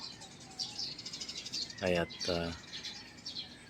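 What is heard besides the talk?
birds chirping in the countryside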